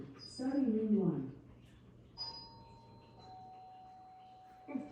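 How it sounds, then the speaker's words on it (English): A smart speaker plays a doorbell sound effect: a short voice comes first, then chime tones ring out and sustain, fairly quiet. "Alexa, play the sound of a doorbell."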